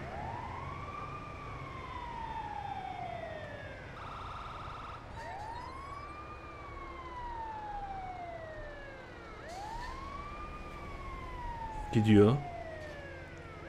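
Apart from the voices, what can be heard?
ambulance siren in video game GTA 5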